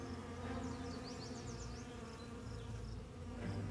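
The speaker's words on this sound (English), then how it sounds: "Bees, characterized by their fuzzy bodies, are renowned for their essential role in pollination and honey production." Bees buzzing in a steady, fairly faint drone, with a few wavering wingbeat tones passing close by.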